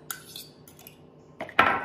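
Utensil clinking against a bowl while shrimp dip is stirred, a few sharp metallic taps early on and a louder burst of scraping and clatter near the end, otherwise quiet.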